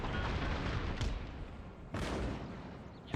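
Artillery cannons in Empire: Total War fire on a fortress wall, the booms rolling in a dense, continuous battle din, with sharp fresh reports about a second apart.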